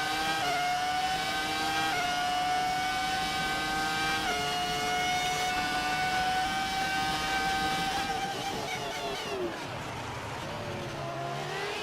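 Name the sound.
classic race car engine in F1 2018 video game, Bahrain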